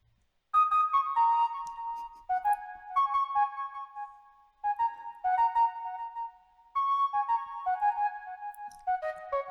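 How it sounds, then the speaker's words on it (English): A real flute plays short, bright melodic phrases of a few notes each, separated by brief pauses, clear and fairly soft with no one talking. "That's actually the sound of a real flute."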